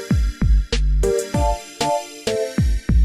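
A rough, unmixed dancehall beat with punchy booming kicks, sharp snare and clap hits and short stabbed tonal chords in a steady syncopated groove, loud and upfront with no voices.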